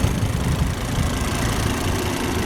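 A 5-cylinder engine in a 2004 Volvo XC90 AWD SUV idles with a steady, even low rumble and hum, close up and constant throughout, with no voices.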